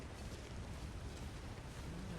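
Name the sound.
waterfall in the video game The Long Dark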